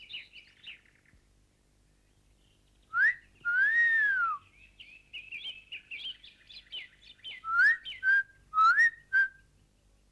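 A person whistles loudly to get someone's attention, with a string of sharp rising and falling whistles and chirpy bursts spread through the scene, with no one talking over them.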